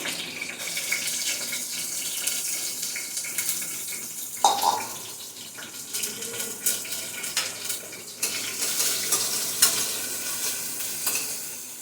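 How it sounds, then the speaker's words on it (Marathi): Ginger, garlic and chili paste hits a hot cumin and mustard seed tempering with curry leaves and splashes of water, sizzling steadily and hissing up near the mic, with occasional utensil clatter and stirring. "जिरं मोहरी एवढं उडलं पाणी होतं त्याच्यामध्ये ही अद्रक लसूण मिरचीची पेस्ट"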